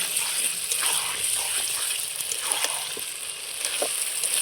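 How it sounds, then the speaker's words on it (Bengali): Chopped tomato goes into a pan of spicy chicken kasha masala, giving a bright, steady frying hiss with occasional splutters and faint stirring, close and continuous; no talk. "এইবার কেটে রাখা টমেটোটা দিয়ে দেবো একটা।"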